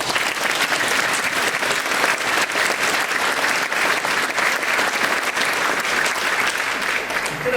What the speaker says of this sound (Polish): Brawa dla pana Mireckiego.